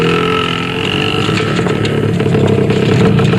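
A Vespa scooter engine in an Indonesian film scene runs loud and steady, a continuous close buzzing drone that holds even throughout with no talk over it.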